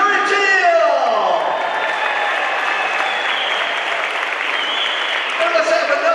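A crowd at a Muscatine High School basketball game gives loud, steady applause for Athletic Hall of Fame inductees, with dense clapping and cheering throughout and a voice briefly rising over it at the start.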